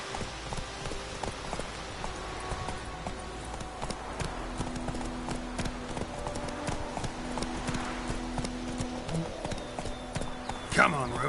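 Roach, Geralt's horse in The Witcher 3, trotting with rhythmic hoof clip-clops beneath spoken dialogue and soft ambient tones, the steps continuing steadily with a sharper clatter near the end.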